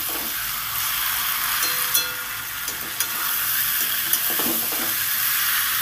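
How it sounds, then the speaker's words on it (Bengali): Fried taro and potato pieces sizzle in spice paste in a pan for a Bengali prawn curry, a steady close hiss broken by a few soft spatula taps and scrapes, no talk. "এবার মশলার সাথে আলু আর কচুটাকে সুন্দর করে 2 মিনিট কষিয়ে নেব।"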